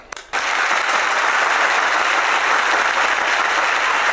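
A studio audience at a special Eid TV music show breaks into loud, sustained applause that welcomes a guest, starting abruptly after a brief quieter moment and continuing steadily to the end.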